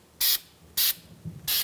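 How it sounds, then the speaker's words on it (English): Three short, loud bursts of aerosol anti-seize spray hissing close by during a front brake replacement on a 2004-2009 Mazda 3, separated by brief pauses with faint clicks between them. "then we're going to put some spray anti-seize"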